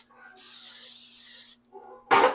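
A can of non-stick cooking spray hisses in one steady burst lasting just over a second, close by, followed by a brief short spritz.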